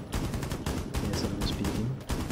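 Rapid bursts of automatic gunfire in the video game Ghost Recon Wildlands, loud and close, with several sharp volleys fired one after another.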